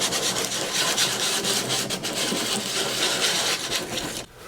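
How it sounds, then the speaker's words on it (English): Close, steady rasping of sandpaper on the HDPE plastic gas tank of a Craftsman or Husqvarna garden tractor, scrubbing continuously for about four seconds before stopping abruptly at the end. "One of the things that's nice about HDPE is that sanding works really well."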